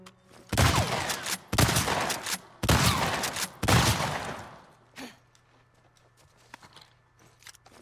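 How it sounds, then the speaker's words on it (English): Shotgun blasts in the video game The Last of Us Part 2: four loud, booming shots about a second apart, each with a long rumbling tail, followed by quieter scattered clicks and shuffles. "Shotgun."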